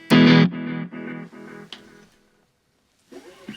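Guitar through a Boss Katana Mini X amp with delay: one loud strummed chord followed by several repeating echoes that step down in volume, then silence before a brief new note.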